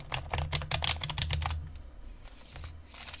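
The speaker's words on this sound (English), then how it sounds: "I'm going to give it one more shuffle" Tarot cards riffle and slap together in a rapid burst of crisp papery clicks during a shuffle, close and fairly loud, then a quieter pause and a few softer card sounds follow.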